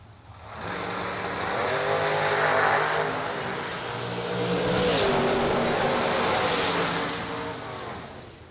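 Drag race cars launch and run down the track at a bracket racing event, a distant roaring engine wash that rises, dips and swells again as they pass, with faint high-pitched whine over the noise.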